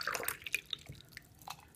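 Water poured into an airtight glass jar used as a homemade paint brush washer gives a few soft close trickles and drips in short bursts, then settles into quieter dripping.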